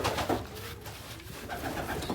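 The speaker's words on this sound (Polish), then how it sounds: "No tu widać, że już są gołębie, patrzcie." Low, soft pigeon coos rumble close by inside a pigeon loft, a couple of throaty murmurs over a breathy background hiss.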